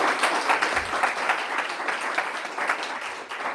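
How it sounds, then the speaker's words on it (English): An audience at a food tech startup pitch event gives sustained applause, a dense, moderately quiet patter of clapping that continues steadily across the whole stretch. "another big round of applause"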